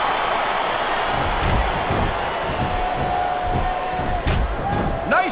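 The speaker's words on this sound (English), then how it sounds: "the crowd has come alive tonight with a chant directed at the superstars in the ring" Wrestling arena crowd roaring steadily, with rhythmic chant-like swells and bursts of cheering rising and falling over a continuous wash of massed voices.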